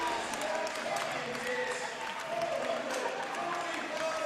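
A crowd at an amateur strongman championship claps and cheers after a lift, steady applause with a commentator talking over it.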